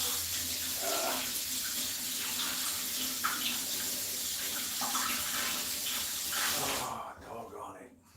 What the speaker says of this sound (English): water just blew all over the floor